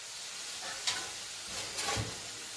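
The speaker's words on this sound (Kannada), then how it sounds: "ಇದೆಲ್ಲ ಚೆನ್ನಾಗಿ ಫ್ರೈ ಆಗಬೇಕು." Chicken chops with garam masala sizzle in a covered pan, a steady soft frying hiss with a few brief crackling bursts, close and alone.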